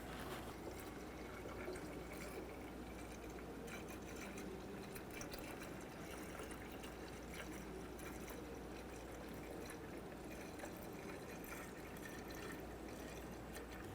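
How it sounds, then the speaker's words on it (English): Coolant poured into the reservoir of a 2007-2014 Chevrolet Silverado 2500 HD, a steady, faint liquid trickle and gurgle that runs continuously and evenly, with no talking. "let's fill it up with a manufacturer specified coolant"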